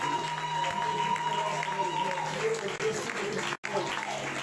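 A church congregation applauds to acclaim the Lord, steady clapping from a crowd filling the room, with voices mixed in beneath the applause.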